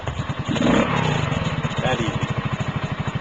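A CT70 clone mini motorcycle engine idles and putters with a steady, rhythmic low chug close by, pulsing evenly as it gets ready to ride off, while a voice talks briefly over it at the start.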